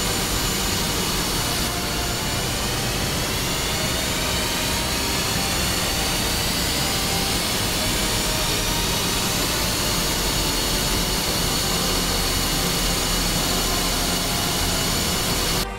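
The right jet engine of an F-5E Tiger II in DCS World spools up toward idle, a loud steady turbine roar with a rising whine building gradually over sixteen seconds, no talk.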